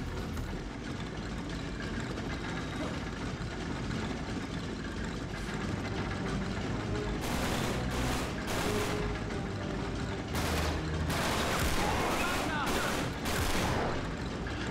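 Bursts of rapid gunfire crackle in a firefight in the video game Uncharted 3: Drake's Deception, loud repeated volleys dense in the second half over a constant roar of combat noise.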